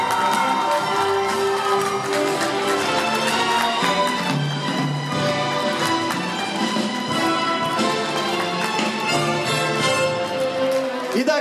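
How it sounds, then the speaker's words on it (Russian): Audience applause and cheering along a red-carpet star walk at a Moscow youth film festival, a dense, steady roar of clapping and shouts with music running underneath for the whole stretch. "Ваши аплодисменты!"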